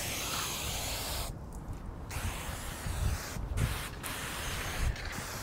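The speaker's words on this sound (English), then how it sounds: "We have a whole gallon of this stuff, so we can just keep spraying it, spraying it, spraying it." Labocosmetica rinseless car wash sprayed onto a car from a trigger bottle in repeated bursts of bright close hissing, with brief gaps between pulls.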